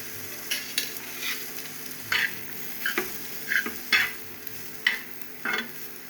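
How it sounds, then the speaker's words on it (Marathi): Onions roasting in a pan for a drumstick (shevga) masala dish, a soft steady sizzle under repeated scraping stirs of a spatula against the pan, about eight strokes at irregular intervals, close and alone. "कांदे भाजले जात आहे"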